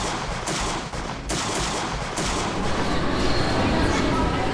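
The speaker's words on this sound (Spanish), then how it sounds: "el sonido seco de los disparos rompe el ambiente" Gunfire at an outdoor political rally where Donald Trump was shot at, a dense, loud burst of sharp reports over crowd noise and commotion that continues throughout.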